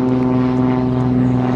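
A propeller airplane drones overhead near a beach during fishing, a loud, steady, buzzing hum with strong even tones that holds without a break.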